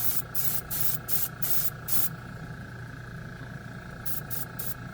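Bursts of a spray gun laying down Champagne Gold paint, driven by an air compressor, hiss in short repeated blasts, with a steady compressor drone running underneath throughout.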